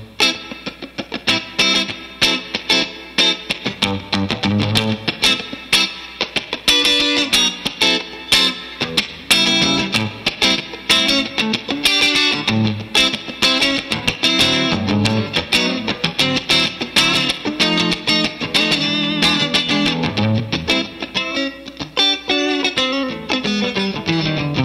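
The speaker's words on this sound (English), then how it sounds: "This is clean with the lipstick pickup." A Fender Telecaster American Standard electric guitar on a clean tone with the lipstick pickup plays a busy run of picked notes and chords, bright and upfront, with no voices.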